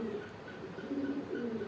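Pigeons cooing in a domestic coop, soft repeated low coos in a gentle rhythm, close but quiet over a faint background hum.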